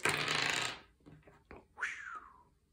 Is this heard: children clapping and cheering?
no